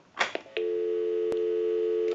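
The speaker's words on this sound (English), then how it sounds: "We can call my number and it'll be busy." A couple of brief clicks and tones, then a steady telephone busy signal drones on from a Siemens rotary desk telephone, broken once by a sharp click.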